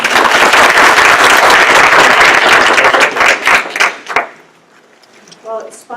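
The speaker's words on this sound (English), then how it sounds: "let's welcome her with a round of applause" An audience at a talk on jellyfish blooms gives a loud, dense round of applause that fades out after about four seconds, followed by a brief voice.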